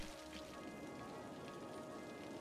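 Rain falls in the Cities: Skylines city-building game, a steady, dense patter of raindrops on surfaces that holds even throughout, soft and alone with no talking.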